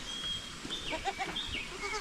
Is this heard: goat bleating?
yes